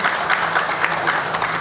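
Crowd applause at the launch of the Jacmel carnival, a continuous wash of clapping with a faint voice blending into it.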